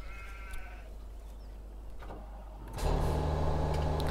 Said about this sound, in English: so the sheep are doing good.